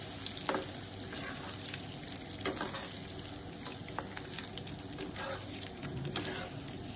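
Curry leaves fry in the hot oil left over from frying olavada, making a quiet, continuous crackling sizzle with scattered sharp pops throughout.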